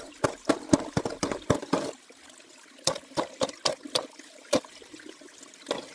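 Water sloshes and splashes through a gold prospecting sluice as rocks are pulled out and flood gravels flush away, in close, irregular bursts of splashing that pause briefly mid-way before resuming.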